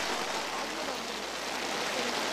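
Steady rain hisses down at an outdoor cricket tournament, a dense even wash of noise with no other clear sounds.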